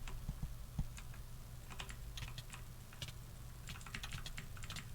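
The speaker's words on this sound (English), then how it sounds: "you've probably heard her absolutely horrific and terrible keyboard." Rapid typing on a loud, rattly computer keyboard, with quiet but steady clicks and clacks continuing throughout and no voices.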